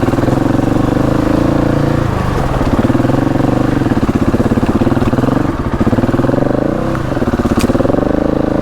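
An off-road motorcycle engine idles loudly and steadily close by on a steep lane in East Sussex, England, its throbbing rumble holding fairly even with slight dips and rises.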